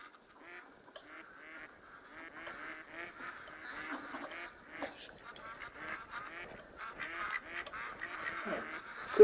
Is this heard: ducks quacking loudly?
yes